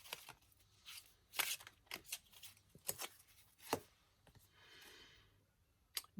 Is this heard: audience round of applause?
no